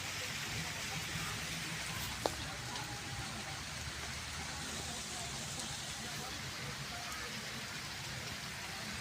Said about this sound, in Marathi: पाऊस पडतोय आज